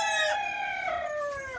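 A rooster crows once in a long, falling call, close and clear, among the birds kept in a rooftop garden with ducks, hens and pigeons.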